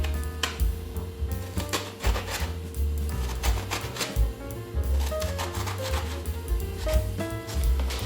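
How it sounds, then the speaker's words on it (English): A small knife scores the inside of halved eggplant with vertical and sideways cuts, making a quick series of soft, close tapping and slicing strokes over steady background music. "Now, with a smaller knife, we do some cut inside the eggplant."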